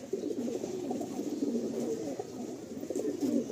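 Andhra high-flying pigeons, a young hen and an older cock, coo steadily from close by in soft, overlapping low murmurs, with no talk.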